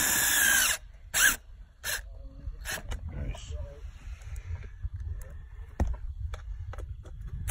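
A power drill drives screws into a mobile home vent. It gives several short, sharp bursts at the start, then a softer whir, over handling noise and some background voices.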